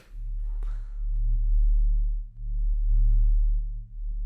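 A lo-fi, rumbling cinematic sub-bass drone synth for a drum and bass intro swells and dips in slow pulses, deep sustained tones with a brief bright click near the start, playing alone.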